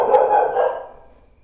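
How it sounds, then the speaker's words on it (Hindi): A single dog barks once at night, a fairly close, short bark that fades out in quiet surroundings. "डॉगी भी अपना काम कर रहे हैं"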